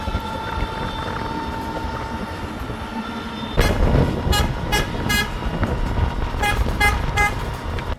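An old car rumbles along a street in the old town, its horn tooting several short, loud blasts in the second half over steady engine and traffic noise.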